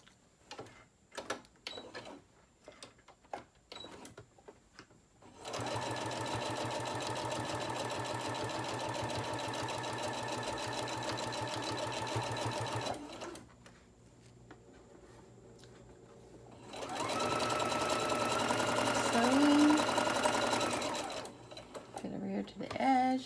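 A sewing machine stitching a quarter-inch seam along the edge of a fabric crayon roll, two long runs of steady rapid stitching separated by a pause, with brief handling clicks and a short burst near the end.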